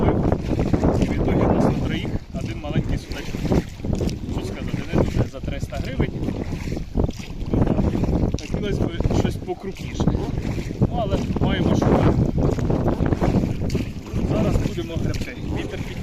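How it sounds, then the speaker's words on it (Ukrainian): A small fishing boat on an autumn lake drifts in wind and waves, with heavy, gusty wind buffeting the microphone and water splashing throughout, while someone talks over it. "хвиля несе, човен куди попало, але нормально"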